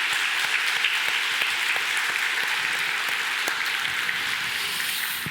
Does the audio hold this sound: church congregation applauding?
yes